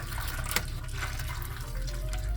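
Very hot water is poured into a roasting pan as a water bath for a New York strawberry cheesecake, a quiet, steady trickling and splashing with a few small clinks.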